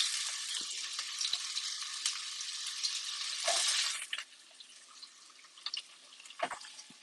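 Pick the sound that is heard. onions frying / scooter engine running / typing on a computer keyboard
onions frying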